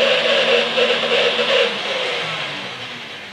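An electric mixer beating cookie dough with butter at higher speed whirs steadily and loudly at close range, a smooth motor hum that eases slightly toward the end.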